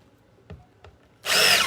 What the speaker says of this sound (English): I'm literally just going to drill them